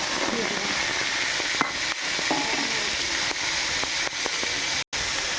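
Cumin seeds and ground spice paste hit hot oil in a kadai while a pangas fish curry is being made, giving a loud, continuous sizzle with a few sharp crackles and pops throughout.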